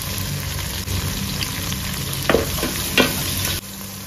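Mint leaves and a pinch of salt fry in hot oil for a green peas pulao. The sizzle is close and steady, broken by a couple of sharp scrapes as the pan is stirred.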